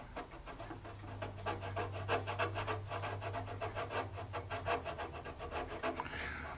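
Steady back-and-forth rasping of a metal file enlarging a small hole in a model ship part, quick repeated strokes, close and fairly loud with a low hum underneath.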